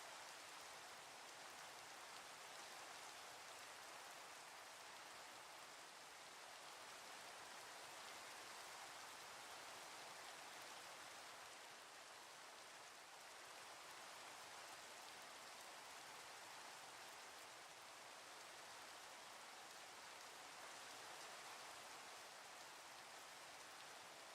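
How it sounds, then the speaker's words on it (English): Steady rainfall hisses evenly and faintly throughout, a continuous wash of drops on surfaces with no voices and no change in intensity. "Sounds like it's raining."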